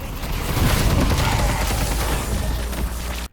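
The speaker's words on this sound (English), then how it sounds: "That's Lady Geist's kill zone, where enemies disappear in a violent explosion of blood when they enter it." Lady Geist's kill zone ability in the game Deadlock sets off a dense, rolling burst of loud gunfire and explosive booms that churns continuously for a few seconds before cutting off abruptly.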